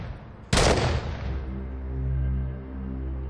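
A single loud, close gunshot from a gun in a TV drama bursts out abruptly, then fades into a sustained low tonal swell.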